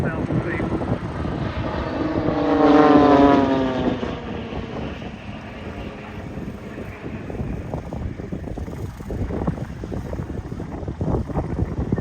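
A lightweight aerobatic monoplane built for World Aerobatics Championship competition roars past at an airshow, its propeller engine swelling loud for a moment before settling into a steady drone, with wind buffeting the microphone and a voice talking over it.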